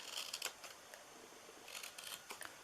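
Scissors snip through paper for an Easter bunny treat box, a few quiet, separate cuts spaced over a couple of seconds with no talking.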